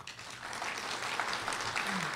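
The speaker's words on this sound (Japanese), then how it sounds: "大きな拍手でお送りくださいませ" Audience applause at a reconstruction-support symposium in Sendai, a steady wash of clapping from a seated crowd that holds at an even level throughout, with faint background voices mixed in.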